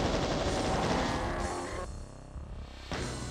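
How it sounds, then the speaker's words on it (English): Plasma gun fire in Doom SIGIL II: a dense, rapid burst of loud energy shots for about two seconds, then a short lull and a fresh burst at the end. "let's use the plasma"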